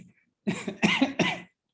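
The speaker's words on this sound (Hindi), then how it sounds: "मेरी खांसी छिड़वा दी।" A man coughs three times in quick succession, close and loud, each harsh burst with a rough throaty tail, after a brief low vocal sound and then silence.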